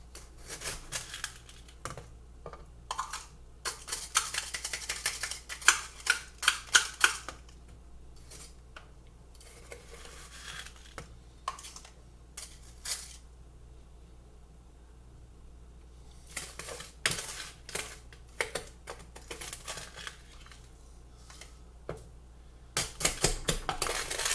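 Caked sugar being broken up for homemade kombucha, with irregular bursts of scraping, clinking and gritty crunching from a utensil against a container, separated by quiet pauses.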